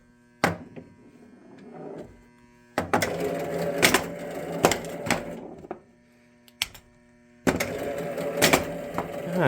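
Mechanical clatter from a 1971 Williams Klondike pinball machine under restoration, with sharp solenoid thwacks as the outhole kicks the ball out, plus rattling bursts and brief pauses, fairly close and loud.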